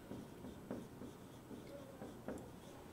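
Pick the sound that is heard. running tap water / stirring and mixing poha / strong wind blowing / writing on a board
writing on a board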